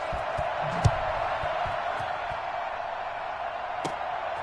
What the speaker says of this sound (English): the crowd is loud and on its feet